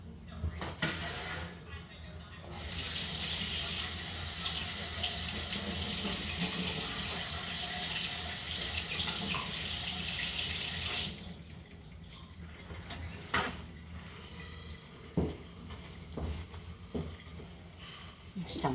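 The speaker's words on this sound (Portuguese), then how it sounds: "Deixa-me lavar aqui as mãos." Hands are washed under a running kitchen tap, a steady close rush of water lasting several seconds before it shuts off, followed by faint drips and light clatter while a person talks.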